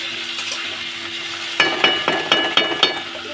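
Ginger garlic paste fries in a hot pan with a soft sizzle, then a spatula scrapes and stirs it in about five quick, close strokes during the second half.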